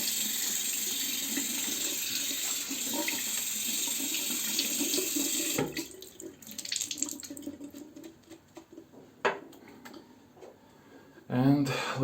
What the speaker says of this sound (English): Okay, let's wash my hand.